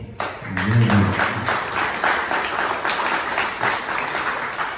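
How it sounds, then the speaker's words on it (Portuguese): Audience applause for a samba musician at a cultural venue in Santos, a steady dense round of clapping that carries on throughout, with a brief voice near the start. "peço a ele uma salva de palmas"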